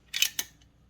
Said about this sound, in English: for now, I'm just gonna zip tie it appropriately here.